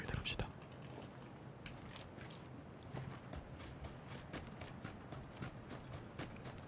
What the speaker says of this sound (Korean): 마실 거 마시면서 발소리를 들읍시다.